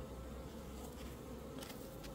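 Native honeybees buzz at a hive, a quiet, continuous, steady drone of many wings close by, with no speech.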